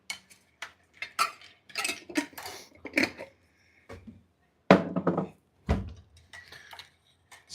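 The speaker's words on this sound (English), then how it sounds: "Stirring my coffee." A metal spoon clinks and scrapes against a cup while sugar is stirred into coffee, a scattered run of sharp light taps and rattles with quiet gaps, ending in a few louder knocks.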